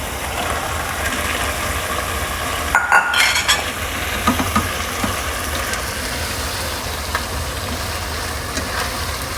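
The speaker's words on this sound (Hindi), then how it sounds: "देखो प्याज सुनहरी हो रही है, इसमें अपन ने चिकन डाल देंगे।" Chicken frying with golden-browned onions for chicken makhni, a continuous close sizzle and crackle in the pan with brief scraping stirs near the middle.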